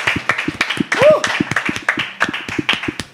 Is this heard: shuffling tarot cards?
no